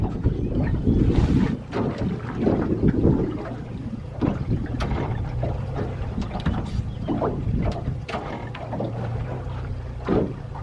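A large outboard motor on a catfish jug-fishing boat runs steadily at close range, its low rumble mixed with wind buffeting the microphone and some splashing.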